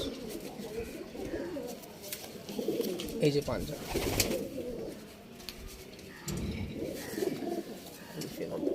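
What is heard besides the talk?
beating pigeons cooing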